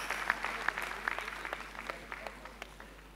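Applause from the congregation at a Christmas church service: a short, faint patter of scattered hand claps, thin and distant, fading quickly.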